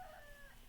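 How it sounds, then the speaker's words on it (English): An Alexa alarm clock plays a recorded cockerel crow, a brief faint tonal call heard alone in a quiet room. "Did I just hear a cockerel?"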